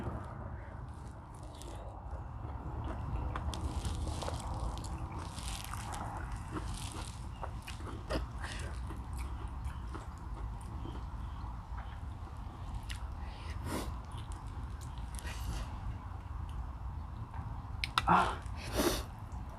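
Someone eating large mouthfuls of bamboo shoot curry, close-up wet chewing, squishing and occasional crunchy bites over a low steady background hum, with a few sharper clicks near the end.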